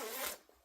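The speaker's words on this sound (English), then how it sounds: "Let me zip it back up." A child's windbreaker jacket zips up in one quick close pull, a short raspy zipper scrape that stops abruptly, followed by faint rustling.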